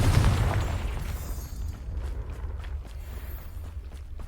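Confringo spell explosion in the Hogwarts Legacy video game, a single low boom at the start that quickly decays into a rumbling tail, followed by faint footsteps.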